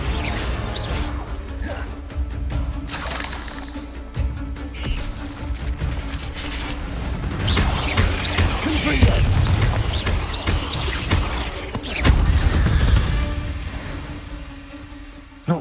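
A Bombardo explosive spell blasting in Hogwarts Legacy, amid a busy stretch of game effects: whooshes, crashes and booming impacts building in loudness, with the heaviest bursts toward the middle and end.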